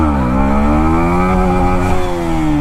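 Yamaha MT15 2.0 motorcycle engine held at a steady, loud rev close by while riding slowly into a rolling wheelie, a continuous buzzing drone that rises slightly in pitch with no talk over it.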